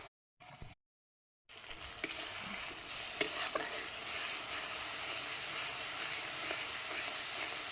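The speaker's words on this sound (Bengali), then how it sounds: "ভালোভাবে ভাজা ভাজা করে নেব" Onion and ginger-garlic paste sizzle in oil while a spoon stirs and scrapes the pan with a few sharper clicks. After a brief silent gap, the steady frying runs close and fairly quiet.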